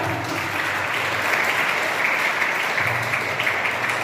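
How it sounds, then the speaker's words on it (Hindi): An audience at a voter awareness event in a girls' B.Ed. college hall gives steady, continuous applause to welcome a guest, a dense even clatter of many hands lasting throughout. "तालियों से जोरदार इनका स्वागत"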